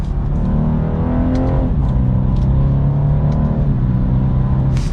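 A 2023 BMW 230i engine in Sport Plus mode accelerates hard, a loud, steady drone with pitch rising through gears and brief dips at shifts, heard close from inside the cabin with no talking.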